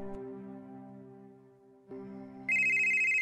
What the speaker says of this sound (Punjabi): ਫਿਰ ਆ ਗਿਆ ਫੋਨ